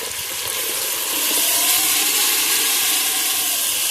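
Tomatoes hit a pan of gently sautéing onions and set off a steady hissing sizzle that swells a little after a second and holds, close and moderately loud with no talk.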